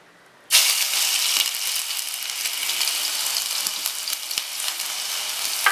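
Cutlet masala of ground chilli, onion, garlic and ginger hits a hot pan with a sudden loud sizzle, then fries steadily with soft stirring scrapes and clicks throughout, no talk.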